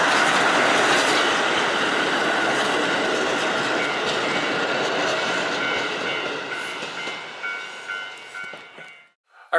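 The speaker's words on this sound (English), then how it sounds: "There's 3 cars on that train." A three-car train passes close by in Hokkaido, Japan, a loud rumbling roll with clattering wheels and some squeal that slowly fades as it moves away, with no voices.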